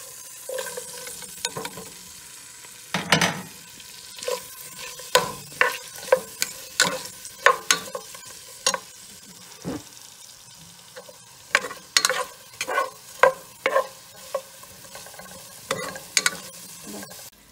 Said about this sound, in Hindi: ये 5 टेबलस्पून ऑयल डाला है, और इसमें हम प्याज डालेंगे।